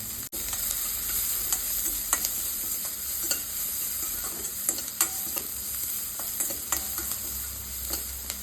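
Finely chopped onions fry in a pan for a sandwich filling, giving a continuous close sizzle punctuated by occasional scrapes and taps of stirring, with no talking.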